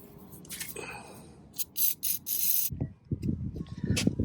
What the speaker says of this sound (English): I'm gonna go ahead and spray these with this PB Blaster just to help it out